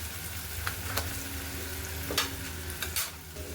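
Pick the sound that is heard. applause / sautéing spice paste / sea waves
sautéing spice paste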